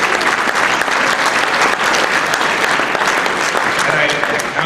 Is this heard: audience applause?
yes